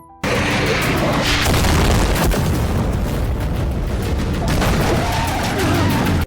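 A loud, sustained blast from a bazooka hit on a car roars out after a sudden start, with rumbling debris and crackling continuing at high intensity.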